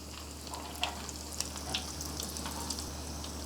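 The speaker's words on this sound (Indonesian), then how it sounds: "Jadi digoreng lagi." Rolled egg roll frying in oil until crisp, giving a faint, steady sizzle with small scattered pops throughout and no voices.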